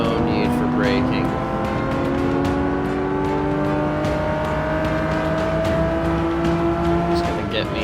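Engine of a Datsun Nissan Fairlady racing in Forza 6 hums steadily throughout, with rising and shifting engine tones, brief tire squeal and a player talking over the game sound.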